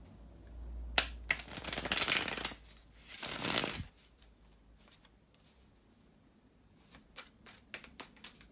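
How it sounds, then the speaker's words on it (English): Tarot cards being shuffled by hand make several quick riffling, papery bursts up close, followed by softer taps and flicks as the deck is handled in a quiet room. "bear with me a second, guys, to shuffle the tarot cards"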